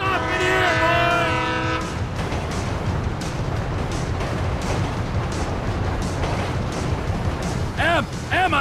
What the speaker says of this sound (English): Train ain't stopping here, boy!